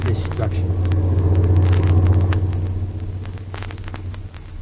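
A truck engine rumbles steadily and low as a radio drama sound effect from 1945, its drone swelling slightly and then easing while voices talk over it.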